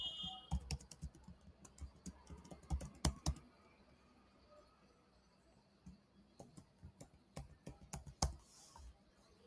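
Computer keyboard typing a password while setting up an AWS account, a quick run of close key clicks in bursts with short pauses, no talk.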